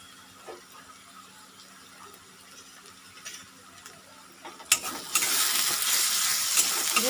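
Ginger-garlic paste dropped into hot oil with fried onions for a snakehead fish curry, bursting into a loud, steady sizzle partway through after a quiet stretch of faint kitchen clatter.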